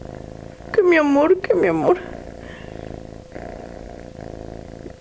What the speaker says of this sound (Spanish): Les está hablando con un ronroneo.